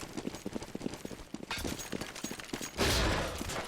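Gunfire in the video game Counter-Strike: Global Offensive during a bomb-site retake, rapid bursts of shots crackling in quick succession, then a louder, denser barrage near the end, with no talking.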